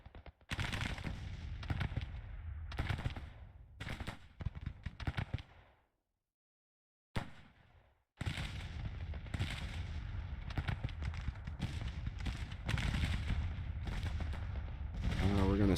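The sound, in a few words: artillery guns firing in video game Grand Tactician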